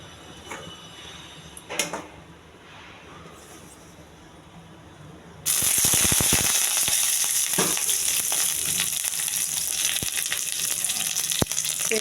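Fish slides into hot oil and a loud, steady sizzle erupts midway, replacing a quiet stretch of faint kitchen knocks, with a few sharp pops and clicks over the frying.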